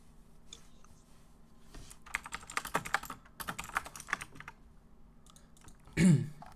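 Computer keyboard typing close to the microphone, in irregular bursts of clicks with pauses between them, ending in a louder thump. No one talks.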